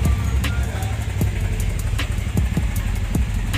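A motorcycle engine idles while warming up, a steady close low rumble with light ticking and clicks over it, continuous and fairly loud with no talking.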